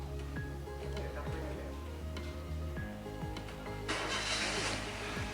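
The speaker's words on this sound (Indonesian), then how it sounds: "selanjutnya kita nyalakan mesin terlebih dahulu" A car engine cranks and catches before an exhaust emission test, with repeated ticking and mechanical rattles over a steady idle, then a louder hissing rush near the end; faint voices may be present.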